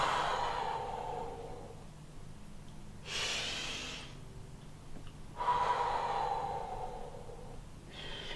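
Close, heavy breaths during press-ups, with two or three long forceful exhalations spaced a couple of seconds apart over soft background noise and no talking.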